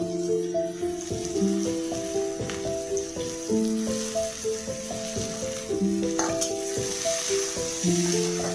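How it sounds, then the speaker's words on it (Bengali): Onions fry in oil with cardamom, cinnamon and cumin, crackling softly and steadily under a tuned melodic background music track. "পেঁয়াজটা একটু ভেজে নেব।"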